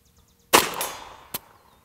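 A Ruger 22 Charger pistol fires one sharp, loud shot that rings out and decays, followed by a second, fainter crack or metallic clack a moment later.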